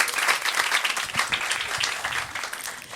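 Applause from an audience in a hall at a live comedy show, steady dense clapping from many hands at moderate volume throughout.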